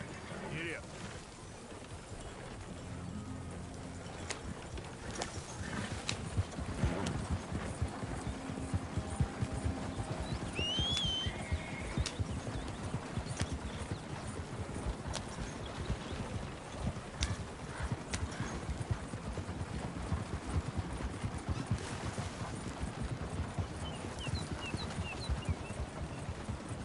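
Horse hooves gallop in Red Dead Redemption 2 in a rapid, steady clip-clop that runs throughout, with a brief whinny and faint game voices over the pounding.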